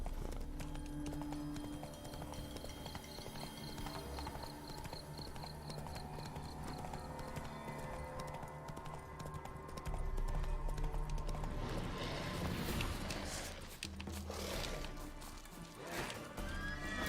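Geralt's horse Roach gallops in The Witcher 3: Wild Hunt, a rapid, rhythmic clip-clop of hooves with a whinny, carried under game music and effects at a moderate, steady level.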